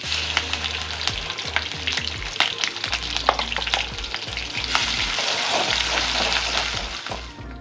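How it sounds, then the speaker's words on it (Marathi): Ground raw masala paste roasts in hot oil with curry leaves, a steady crackling sizzle broken by frequent scraping and tapping of a stirring spoon against the pan. "आपण हे जे वाटण केलं होतं आपण कच्चं मसाल्याचं ते आपण भाजून घेऊया छान"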